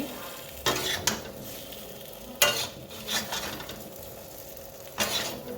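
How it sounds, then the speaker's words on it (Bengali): Papaya and potato pieces frying in a pan, a steady sizzle broken by several scraping stirs and clinks of a utensil against the metal, close and clear with no talking. "এটা ভাজা হয়ে গেছে লাল লাল, এই দেখতে পাবেন। আমি এটা এখন নামাচ্ছি।"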